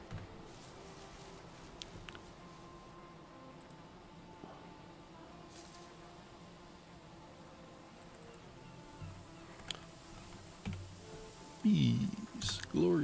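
Buzzing bees in the Valheim video game, a faint steady insect drone under quiet ambient game sound, with a few sharper louder bursts near the end.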